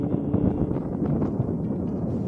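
Wind rushing past while riding a Lankeleisi G660 folding bicycle around Jogjakarta on a sunny Sunday, a steady, close, low buffeting roar with no talk, constant throughout.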